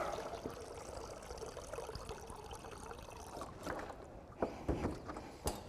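Four cups of store-bought spring water poured for a brine, a steady watery trickle in a quiet room, with a few sharper splashy bursts near the end.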